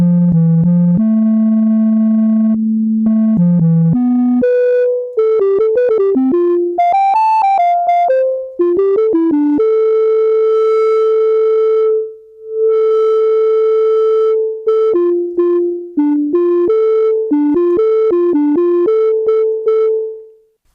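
A sampled feedback-loop tone run through diode-clipper distortion plays as a mono synth line of sustained, buzzy pitched notes that step up and down, loud and continuous with brief gaps.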